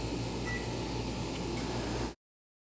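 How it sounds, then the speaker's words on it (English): A microwave oven's steady mechanical hum with a low drone runs for about two seconds, then cuts off abruptly into silence. "pop it in the microwave"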